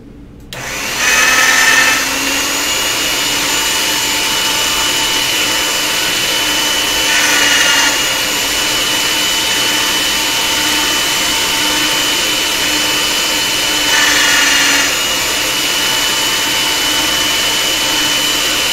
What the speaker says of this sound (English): I'm going to get each of them through the pasta machine on the thickest setting first.